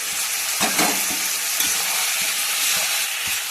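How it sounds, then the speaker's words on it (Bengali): Potatoes and peas tipped into a hot pan of melted tomato, a loud continuous sizzle with scraping stir strokes and brief clatter as they land, close and without talk. "এখন আমি আলু আর মটরশুঁটিগুলো দিয়ে দেবো।"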